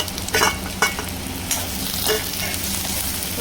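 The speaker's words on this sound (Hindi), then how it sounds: "थोड़ा सा प्याज को भून लेंगे" Onions frying in oil in a wok for a ridge gourd sabji, a steady loud sizzle with occasional stirring scrapes throughout, close and without talk.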